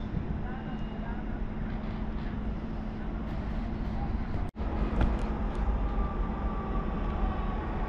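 Train 45 WE 027 at Kłodzko Miasto station, running from Lichków to Wrocław, rumbles steadily with a low engine hum and a brief sharp clank midway.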